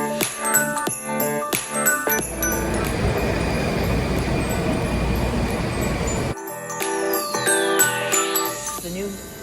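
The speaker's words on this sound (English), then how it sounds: "This is one long, steep ride down an escalator to the subway." A long, steep escalator ride down to a subway in Georgetown: a steady mechanical rumble and hiss fills the middle, framed by tinkling chimes and clinks. The sound is fairly loud and close, with no voices.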